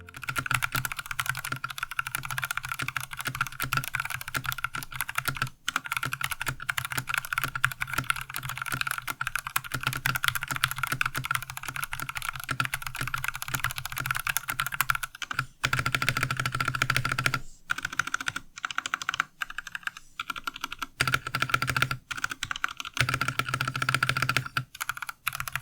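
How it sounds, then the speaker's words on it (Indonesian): Rexus Daxa M64 Classic compact keyboard with stock switches being typed on, a close, dense run of rapid clacking keystrokes with occasional pauses and louder spacebar-like thocks, no talking. "kita dengerin dulu typing test Rexus Daxa M64 Classic Stock"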